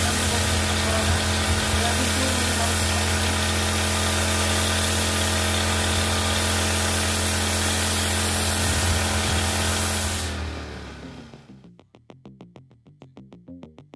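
Aspee four-stroke petrol engine agricultural sprayer pump running loud and steady at a constant drone close by, then cutting out near the end and sputtering briefly as it winds down.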